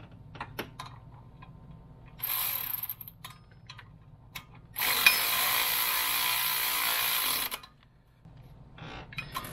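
Ratchet tightening idler pulley bolts on a 2014 Honda Odyssey: bursts of rapid metallic clicking separated by pauses and small clanks of tools, close and moderately loud, with no talking.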